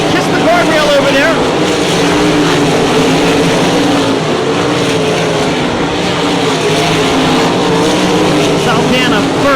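Sprint cars roar around a dirt oval track, a loud, continuous engine howl with rising and falling pitch as cars pass, and a race announcer talks over the din throughout.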